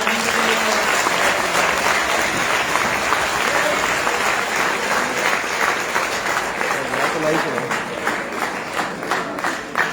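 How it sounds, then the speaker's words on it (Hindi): Sustained applause from a crowd at a hotel business meeting, loud and dense at first then gradually thinning, with a voice speaking beneath it. "तालियां होनी चाहिए।"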